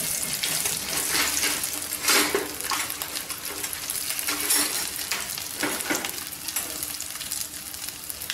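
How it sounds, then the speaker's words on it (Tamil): Red capsicum (bell pepper) being sautéed for a chutney, giving a steady close-up sizzle with scraping stir strokes and soft clinks throughout, no talking. "நம்ம குடமிளகாயை கொஞ்சம் வதக்குறதுனால இந்த பச்சை வாடை போய் ரொம்ப டேஸ்ட்டாக இருக்கும்"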